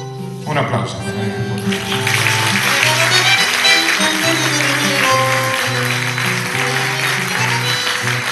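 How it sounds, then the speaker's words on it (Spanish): A live audience applauds at a tango concert by a quinteto, the dense clapping swelling in after a brief opening and holding steady over continuing tango music. "Un aplauso."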